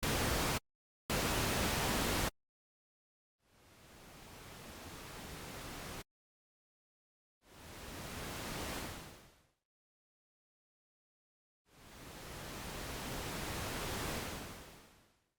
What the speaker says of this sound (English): So now I want to add that sort of noise swell that I was considering a little bit before.